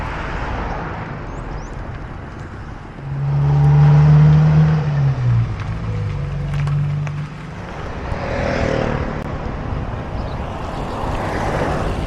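Vehicles on a main road near the Myanmar border swell up and pass close by, one loud engine rumble building and fading, then another quieter pass, over a steady background hum.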